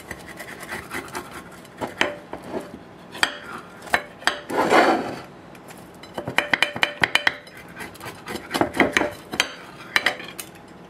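A knife or pizza cutter scraping and clinking against a plate while cutting a thick-crust homemade pizza, with irregular sharp clicks and rasping strokes close up, in a kitchen.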